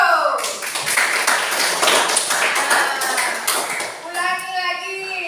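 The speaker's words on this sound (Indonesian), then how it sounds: "Tepuk tangan untuk" A classroom group claps for a pupil, a dense burst of many hands lasting several seconds at steady loudness, fading near the end as children's voices and a few calls rise over it.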